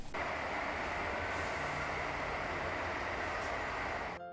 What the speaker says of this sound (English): an intermodal would pass through on the transcon with an H1-9 trailing second